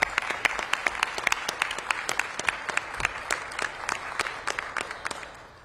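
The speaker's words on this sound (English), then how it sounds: "So please give them a round of applause." A crowd at a city government announcement gives steady applause to DC Fire and EMS women, many hands clapping close and fairly loud for several seconds before fading slightly.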